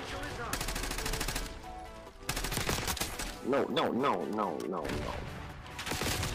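Rapid automatic gunfire from an XM4 rifle in Call of Duty: Black Ops 6, loud bursts with a short gap, then warbling game effects and more fire, with a player briefly speaking over it.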